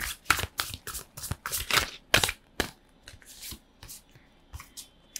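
A deck of tarot cards being gathered and shuffled close by, with quick papery riffles and flicks in irregular bursts, no talk.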